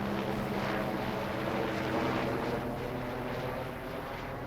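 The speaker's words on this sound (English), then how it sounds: "Helicopter. A daily helicopter." A helicopter flies over in the Farming Simulator 22 game, a continuous broad rumbling drone with a faint wash of higher noise, steady and fairly loud with no talking.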